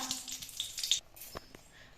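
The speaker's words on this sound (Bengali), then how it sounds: "তেলের মধ্যে দিচ্ছি একটা শুকনো লঙ্কা" A dried red chilli sizzles in hot mustard oil in a kadai, a brief bright hiss that fades into quieter crackling within two seconds.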